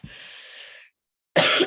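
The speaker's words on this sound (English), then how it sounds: "should be done with coughing" A brief, breathy throat clearing, then a short pause and one sharp, close cough.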